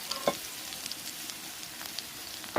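Pabda fish curry with radish and flat beans cooks in a pan, making a gentle continuous sizzle with occasional light spoon clinks from stirring.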